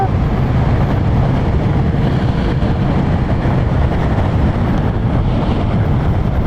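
A 2020 Vespa GTS 300 Super scooter engine accelerates to overtake on the road, its drone buried in a loud, steady rush of wind and traffic noise throughout.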